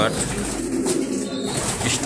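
Male racing pigeons coo in a loft room, low soft cooing under a steady background hum, with a voice faintly present.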